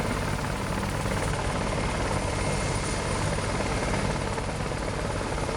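A Bell 430 helicopter roars continuously at close range, its rotor and engine noise filling the whole stretch as a dense, unbroken wash.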